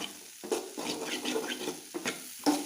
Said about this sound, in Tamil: கொஞ்சம் பச்சை ஸ்மெல் போகிற அளவுக்கு லைட்டாக இப்படி வணக்கி விடுங்க